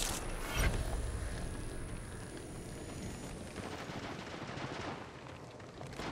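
Gunfire in Apex Legends Mobile ranked gameplay, bursts of rapid automatic shots and mechanical clatter during a squad fight, continuous and fairly dense, with a strong blast near the start.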